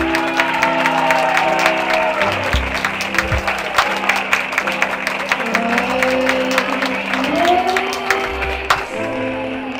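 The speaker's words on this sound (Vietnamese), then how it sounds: "một tràng pháo tay thật lớn và nồng nhiệt nữa cho chú rể của chúng ta có được không ạ?" A crowd at a Vietnamese wedding applauds to welcome the groom, dense, loud clapping that carries on for nearly ten seconds with a few louder claps standing out, ending abruptly.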